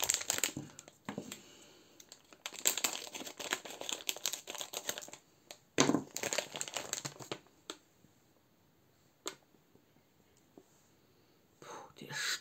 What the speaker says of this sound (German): Dann schneiden wir das Ganze mal auf.